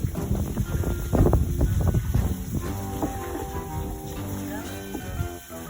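A small boat, a banca, on a mini fishpond, with wind buffeting the microphone and water and hull noise close by, while people talk over it throughout.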